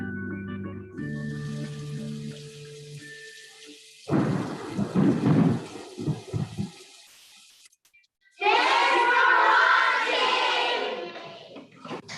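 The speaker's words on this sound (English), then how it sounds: "Cumulonimbus clouds signal to us that a thunderstorm is coming." A thunderstorm: a low rumble of thunder rolls in partway through, then steady heavy rain hisses loudly toward the end, with a musical tone at the start.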